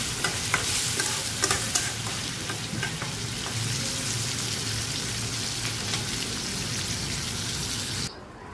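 Sweet pumpkin (mishti kumra) bhaji fries loudly in oil while being stirred steadily in a pan, giving a dense, close sizzle with scraping strokes that cuts off near the end.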